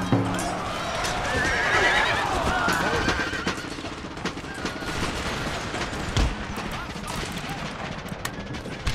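Horses neigh and gallop on an Empire: Total War battlefield, with a clear whinny early on over a constant roar of hooves, musket volleys and battle noise.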